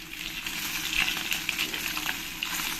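Tilapia pieces frying crisp in hot oil, a steady close sizzle with light crackles and pops over a soft hiss.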